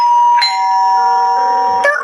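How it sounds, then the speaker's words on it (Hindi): A house doorbell rings twice, each chime a bright sustained tone ringing on, clear and close with no talk over it. "आदमी ने एक घर की घंटी बजाई"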